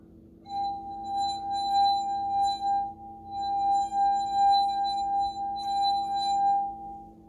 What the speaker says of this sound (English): You can make all different kinds of sounds with these glasses based on the water you put inside.